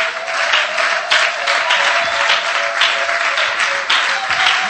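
A church congregation applauding, steady dense clapping from many hands that holds without a break, loud and close, with a faint tonal hum beneath.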